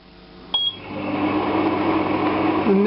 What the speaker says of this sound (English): The noodles and the blanched leaves being cooked together now for 2 minutes on high in the microwave.